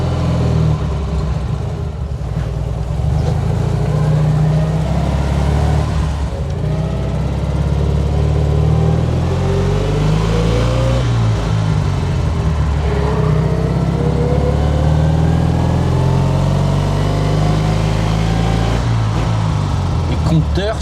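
A Panhard 24 CT car engine and exhaust drone steadily and fairly loudly throughout, with a deep, even rumble and no pauses.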